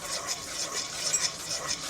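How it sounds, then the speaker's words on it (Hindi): A foamy custard malai cake mixture being stirred steadily in a bowl, giving a continuous close swishing and whisking sound with no speech. "अच्छी तरह हिलाएंगे इसे"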